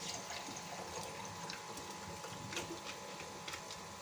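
Freshly boiled milk pours into a cooking pot for chicken drumsticks, a continuous close liquid splashing and gurgling with faint clinks, steady throughout, with no talking.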